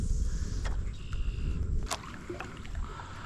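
A boat motor buzzes from across a creek, a harsh, steady engine drone with occasional faint knocks and splashes nearby.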